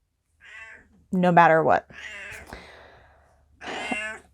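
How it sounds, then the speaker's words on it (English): A pet cat meows loudly and close by, several drawn-out talkative calls in a row, while someone speaks briefly in between. "as you can hear, if this is the first video you're watching of me, I have a kitty. She is a talker."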